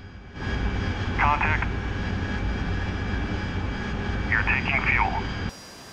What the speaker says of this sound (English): This is an AV-8B Harrier.